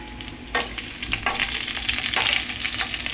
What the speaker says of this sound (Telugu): ఇప్పుడు మనం ఎండుమిరపకాయలు వేసుకోవాలి.